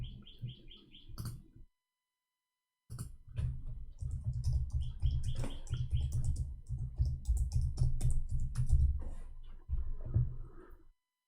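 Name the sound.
typing in Arabic on a computer keyboard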